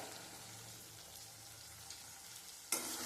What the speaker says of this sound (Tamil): தக்காளி வதங்கணும், அதுக்காக உப்புத்தூள் சேர்த்துக்கிறேன்.